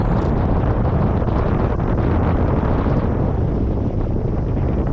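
Wind rushing steadily past a paraglider in flight high above Bir Billing. It is a loud, continuous broadband roar with no break, close to the microphone and heard alone.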